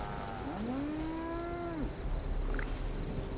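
A Brahmin cow from the video game Fallout 76 lets out a single long, clear moo that rises and holds for over a second before breaking off, heard up close over a steady ambient game background.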